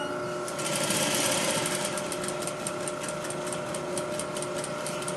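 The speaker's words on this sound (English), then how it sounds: "slow your machine down to as slow as I'm doing it." A sewing machine stitches a French or flat felled seam at a slow, controlled pace, its needle ticking in a steady rapid rhythm under a constant motor hum, close and clear with no talking.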